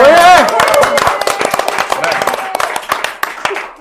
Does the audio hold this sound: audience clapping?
yes